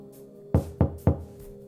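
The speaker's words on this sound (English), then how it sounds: "this well-timed knock at the door happened" Three sharp, evenly spaced knocks strike the apartment door in the Silent Hill 4: The Room video game, hollow and close against a quiet low ambient hum.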